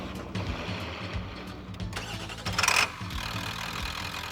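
A 1994 Ford F-Series truck with a 7.3-litre V8 direct-injection turbocharged diesel running, a loud, close, steady rumble with rhythmic pulsing and a brief surge of higher-pitched roar near the middle.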